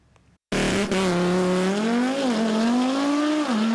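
A drag race car launches at a roadside strip event, its engine bursting into a loud, sustained roar after a brief quiet start, the pitch wavering and climbing as it pulls away close by.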